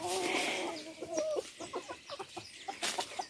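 Hens on a small Brazilian farm cluck repeatedly, growing agitated as they prepare to lay beside freshly strawed nests; a steady run of short, fairly close clucks and squawks with no talking.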